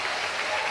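A church congregation applauds in a dense, even wash of clapping that fills the whole short moment, with no break or variation.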